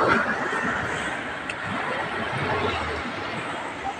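A fishing boat's motor starts up at sea off Davao Occidental, giving a steady, close rumbling drone with broad noisy hiss that continues evenly throughout.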